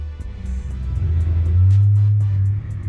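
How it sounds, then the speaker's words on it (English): A big truck engine in the BeamNG driving game drones with a deep, steady low rumble that swells louder midway as it revs, with faint clicks and taps above it and no voices. "This is a big truck, though."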